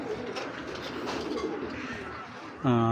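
Healthy imported racing pigeons coo softly in a loft, low murmuring calls under a quiet background, ending with a brief louder tonal sound.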